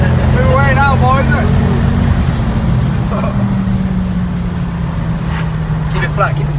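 A Ford Focus ST with newly fitted driveshafts accelerates hard, its engine a loud, steady drone rising and falling in pitch close by, while people shout and talk excitedly over it.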